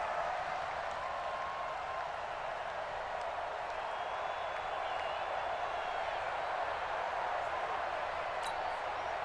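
A football stadium crowd roars in a steady, continuous wash of cheering and applause after a big play, heard from a distance without any distinct voices.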